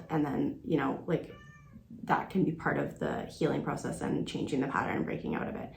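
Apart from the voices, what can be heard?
cats meowing in the background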